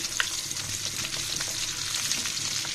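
Potato and egg breakfast snack frying in hot oil, giving a steady, dense sizzle with small crackles throughout, close and continuous with no voices.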